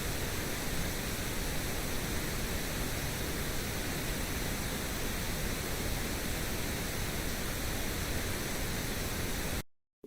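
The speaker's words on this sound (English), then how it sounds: "I hate this pink noise, man" Pink noise sits in a song mix as a constant, even hiss, level and unbroken for about nine and a half seconds before cutting abruptly to silence.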